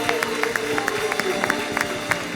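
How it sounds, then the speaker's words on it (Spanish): Congregation clapping in church in praise of God, a steady rhythmic run of claps under a loud, dense wash of crowd noise, with voices mixed in throughout. "Dar un aplauso al Señor con todo tu corazón"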